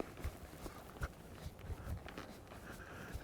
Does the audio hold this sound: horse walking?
yes